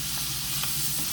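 Smoked sausages sizzle on a George Foreman grill, a steady close crackling hiss with faint pops, heard alone without talk.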